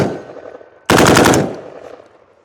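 A rifle fitted with a forced reset trigger fires a fast, loud burst of about half a second at close range, then the report echoes and fades.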